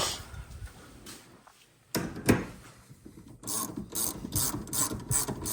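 Ratchet tightening a bolt into an engine mount during an LS3 swap into an S14, heard as bursts of rapid clicking pawl strokes up close, with a louder run of repeated clicks in the second half.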